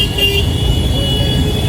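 City traffic crawls along a rain-flooded street in Surat during a heavy downpour, with a steady roar of engines and a sustained car horn sounding close by throughout.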